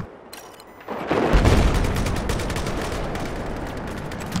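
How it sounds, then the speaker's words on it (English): Shotgun blasts in a video game, a sudden loud booming burst followed by a rapid, sustained crackle of gunfire that stays steady to the end, with no talking. "It should only be one shot from a shotgun."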